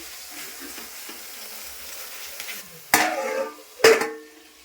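Leafy greens with a little turmeric stirred in a hot pan, a low steady sizzle followed by two loud bursts of clattering, scraping stirring close by.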